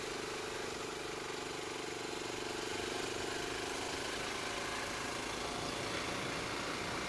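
A Goldstar motorcycle fitted with a non-stock exhaust idles steadily, a deep, bassy rumbling drone held at an even level with no revving.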